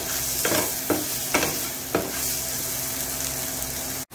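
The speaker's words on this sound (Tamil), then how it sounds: "குட மிளகாய் அதை நல்லா ஃப்ரை பண்ணிக்கோங்க" Capsicum and onions fry in a pan with a constant sizzle, while a spatula stirs them in several distinct scraping strokes during the first half before the frying hiss carries on alone.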